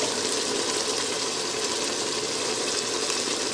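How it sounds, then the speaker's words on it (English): Grandpa Vic's homemade sauce cooking down in a pot, giving off a steady, even sizzling hiss like frying rather than bubbling, continuous and close with no voices. "you can start to hear how it's like it's frying again instead of boiling"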